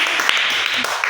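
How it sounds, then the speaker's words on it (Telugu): Children clap their hands together in a classroom during a maths activity, a dense burst of clapping filling the short moment. "గట్టి క్లాప్స్ కొట్టండమ్మా"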